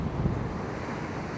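Wind and surf at Patihan beach in Yogyakarta: steady, heavy wind buffeting the microphone over a continuous roar of waves, with no voices.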